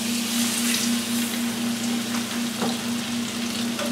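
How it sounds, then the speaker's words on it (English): Trout fillet frying in hot oil in a pan gives a steady crackling sizzle at close range, with a constant low hum beneath it and a few sharper pops. "I'm going to take this fish and we're just going to lay it over into the pan."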